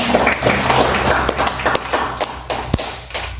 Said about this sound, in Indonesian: kita beri tepuk tangan untuk narasumber kita